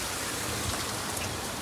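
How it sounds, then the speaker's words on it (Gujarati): Heavy summer rain pours down steadily in a dense, unbroken hiss, with close drops drumming on surfaces and no voices. "તો વરસાદ છે ભાઈ, ફૂંકા કાઢી નાખે એવો"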